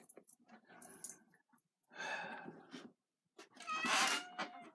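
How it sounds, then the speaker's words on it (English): A cat meowing in short bursts, three separate vocal calls with quiet gaps between, the last one loudest and most drawn out, close by in an otherwise quiet room. "Hey, cat."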